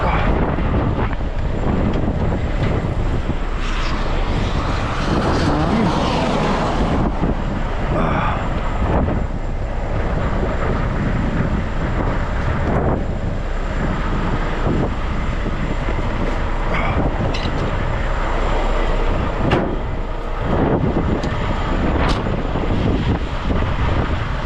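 Strong wind buffets the microphone on a dark highway, a continuous rough, rumbling roar with gusty surges lasting throughout.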